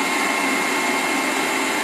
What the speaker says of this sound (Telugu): మిక్సీ పడుతుంది అన్నమాట.